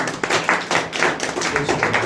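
A church congregation claps together in praise of God, a loud, steady run of rhythmic claps in quick, even beats.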